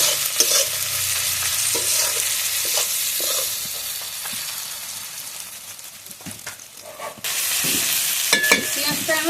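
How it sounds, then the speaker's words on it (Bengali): Onions with salt sizzle in a pan while a spatula stirs them in scraping bursts, the frying hiss dipping and swelling as the mixture is moved. "পেঁয়াজটা আমি ভালো করে ভেজে নিয়েছি।"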